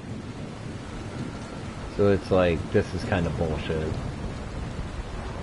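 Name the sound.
rain and thunder in the video game Dying Light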